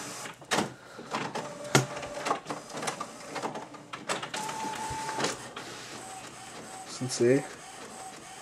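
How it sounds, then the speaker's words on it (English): A printer at work nearby, whirring and clunking with sharp mechanical clicks and a rising motor whine, while someone speaks briefly over it. "As you guys can hear, my printer is now working."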